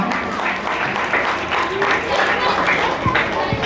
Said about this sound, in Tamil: எல்லாரும் இதுக்காக ஒரு கைத்தட்டு கொடுத்துடலாமா?